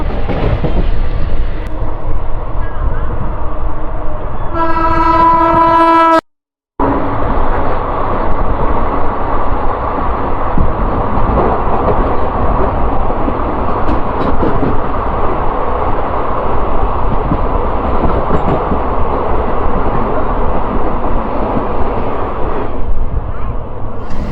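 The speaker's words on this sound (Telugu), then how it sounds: "17296 వస్తుంది. మైసూర్ నుంచి కాకినాడ వరకు వెళ్ళే ట్రైన్ అనమాట." The 17296 Hisar–Kakinada express passenger train passes through a railway station with a loud, continuous rumble of rolling coaches. A short, harmonic horn blast sounds early on, followed by a brief cut in the sound, and then the heavy rolling noise continues.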